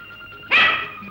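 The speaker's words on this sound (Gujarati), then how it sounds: "મને જોઈને તમે લોકો ભસો છો?" A dog gives one sharp, loud bark at close range after a moment of quiet, followed by a brief fading tail, part of a Gujarati comedy skit in which dogs bark at a man.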